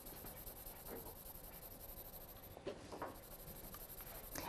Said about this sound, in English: I'm going to layer on even more pencil and get darker still.